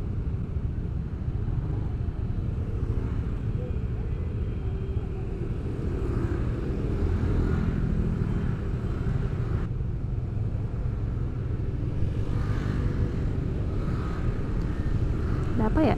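Steady rumble of traffic in a jam of cars and motorcycles, heard from a motorbike in Indonesia, a continuous close engine and road drone throughout with occasional voices underneath.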